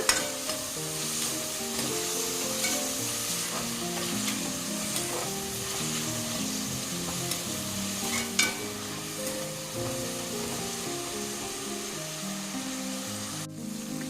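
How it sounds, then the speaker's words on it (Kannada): Chopped tomato fries and is stirred in a pan for kushka rice, a steady close sizzle with soft spoon scrapes throughout, no talking. "ಟೊಮೆಟೊ ಹಾಕಿದ ಮೇಲೆ 2 ನಿಮಿಷ ಫ್ರೈ ಮಾಡಿಕೊಂಡ್ರೆ ಸಾಕು."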